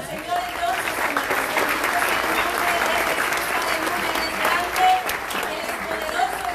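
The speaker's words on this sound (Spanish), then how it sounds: "Denle un aplauso al Señor de Dios, hermanos" A church congregation applauds during a worship service, dense steady clapping from many hands filling the room for several seconds, with voices mixed faintly underneath.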